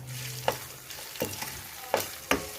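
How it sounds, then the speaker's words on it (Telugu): Ginger garlic paste frying in a pan, a steady close sizzle with a few sharp stirring scrapes of a spoon against the pan. "ఇప్పుడు ఇందులో అల్లం వెల్లుల్లి పేస్ట్ వేసుకుందాం."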